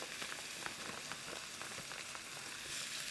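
Meat fries in a 12-inch non-stick ceramic fry pan, giving a continuous, even sizzle that is quiet and close, with a few faint stirring scrapes under it and no talking.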